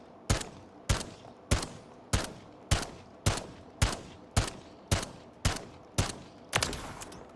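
About a dozen evenly spaced rifle shots fired from the hip in Call of Duty MW3, each a sharp loud crack with a short decaying tail, in a steady rhythm and with no talk.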